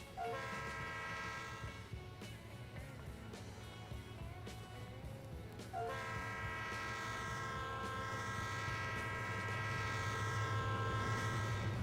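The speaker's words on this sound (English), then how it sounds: "We have an incoming Santa Fe grainer coming through." In the game Trainz 2019, a long Santa Fe grain freight train of about 6,700 tons rumbles steadily past with a sustained multi-tone horn sounding, fading briefly and then blaring again over continuous heavy rolling noise.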